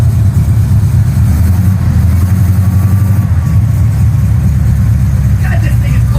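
A Jeep CJ7 engine, on its first start after a full rewiring and HEI ignition upgrade, idles steadily with a low, rumbling drone throughout, fairly loud and close, with a brief higher sound near the end.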